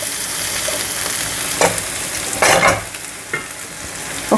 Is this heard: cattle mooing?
no